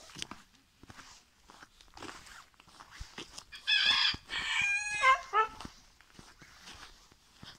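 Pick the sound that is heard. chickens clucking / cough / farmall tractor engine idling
chickens clucking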